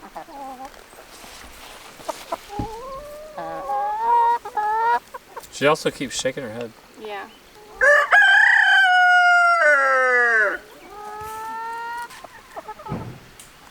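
Backyard homestead chickens cluck and cackle in short bursts, with a rooster's drawn-out crow rising loudly midway; a person talks briefly among the calls.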